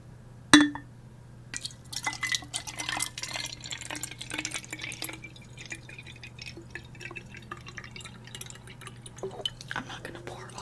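Water poured into a can for ASMR, heard as close, quiet dripping and trickling that follows a sharp clink, with soft talking and faint whispering throughout.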